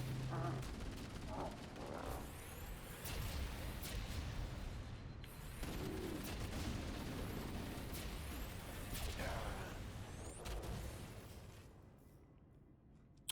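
Gunfire rattles through a Halo video game battle as a pistol fires against enemies, with repeated sharp shots over dense, loud combat noise and whooshes that fade near the end.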